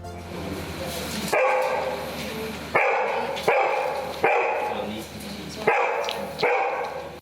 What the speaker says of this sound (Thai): เสียงเห่า